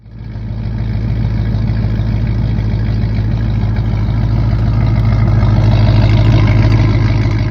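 A 1990s Ford Falcon V8 engine with a raw, loud mid-muffler delete exhaust idles steadily, its deep rumble holding close and constant, then rising slightly near the end.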